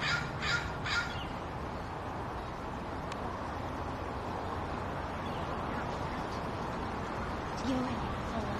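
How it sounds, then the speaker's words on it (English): Crows cawing in a few harsh bursts near the start, then a steady outdoor wash of background noise, with a faint later call, near a duck protecting her ducklings. "The crows are trying to eat one."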